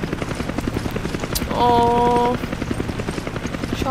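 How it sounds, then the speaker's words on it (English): Helicopter in the Resident Evil 5 co-op video game: a loud, steady rotor chop pulses throughout, with a brief sustained mechanical tone midway, while a player speaks briefly over it. "Chopper"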